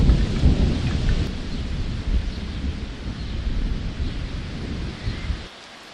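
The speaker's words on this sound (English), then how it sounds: "It is that storm I mentioned." A thunderstorm rumbles with a deep, steady roll of thunder over dense, continuous rain and some wind, loud and enveloping for several seconds before cutting off abruptly.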